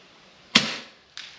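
A single sharp report from an FX Impact M3 .22 caliber air rifle outdoors, with a brief decaying tail and a fainter impact crack about half a second later, alone without talk.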